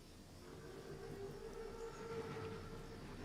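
Armored train (Panzerzug) in a video game, rolling past with a loud, steady rumbling rail clatter and a sustained whistle-like tone drifting over it, close and continuous.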